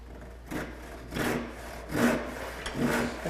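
A handsaw rasps through a wooden board along a marked line in four slow, even strokes, each swelling louder, close up with no talking.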